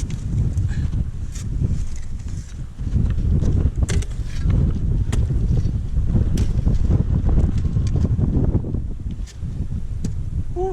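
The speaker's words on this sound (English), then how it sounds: "It's windy." Strong desert wind buffets the microphone in continuous gusty roars, loud and close, with brief lulls between rumbling blasts.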